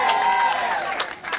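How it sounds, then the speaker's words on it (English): A rally crowd in Brooklyn breaks into applause and cheering, a dense burst of clapping mixed with raised voices and whistles, loud and close throughout the short stretch. "Give them a round of applause."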